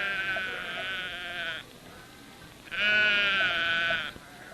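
Sheep bleating as a sound effect in a sleep-aid advert: two long, wavering bleats, loud and close, separated by a short pause.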